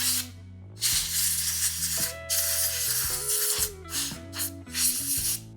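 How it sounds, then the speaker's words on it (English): Brake cleaner hisses from an aerosol can onto the parts of a Cub Cadet leaf vacuum. The close spray comes in several short bursts with brief gaps between them, and a low mechanical hum runs underneath. "this brake cleaner is just going to just help break all that down"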